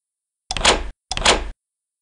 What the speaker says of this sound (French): ferma à clé la porte du jardin